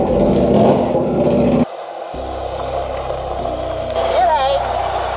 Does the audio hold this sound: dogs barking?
no